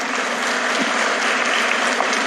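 An audience claps steadily and densely at a business success event, a sustained wash of applause with no voices above it.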